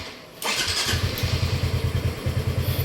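A new 2026 Honda Dream motorcycle engine starts abruptly after a quiet moment, then settles into a close, steady, rhythmic idle putter.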